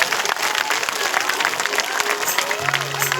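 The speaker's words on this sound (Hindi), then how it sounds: "ताली बजा दो, जोर से ताली बजा।" Audience applause at a Ramlila performance in Govindpur, Dhanbad, a dense continuous clapping that holds steady throughout, with faint crowd voices underneath and a low sustained tone entering near the end.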